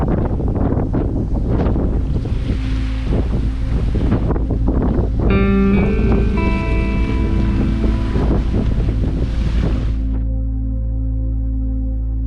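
A sailboat rolls on choppy water in Chesapeake Bay, with constant heavy wind buffeting and water rushing past, loud and close, plus a few tonal creaks or rigging sounds partway through.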